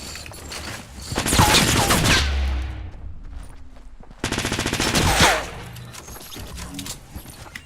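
Two long bursts of rapid SMG fire in Fortnite Battle Royale ring out loud and close, each a dense rattle lasting about a second, with quieter game noise between them.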